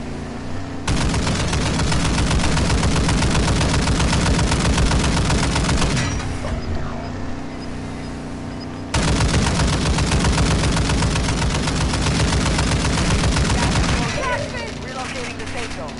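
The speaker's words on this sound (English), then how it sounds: "Ooh, it's got a 50 cal on it." Heavy .50 cal mounted machine gun in a video game hammers out long continuous bursts, loud and close, with brief pauses between two extended strings of fire.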